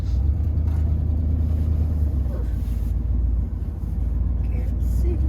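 A vehicle driven over hilly ground in the woods, its engine giving a steady, loud low rumble throughout with small bumps and jolts.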